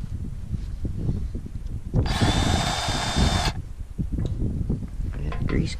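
A battery-powered grease gun runs in one short, steady whir of about a second and a half, close by, with a low rumble from farm machinery continuing throughout.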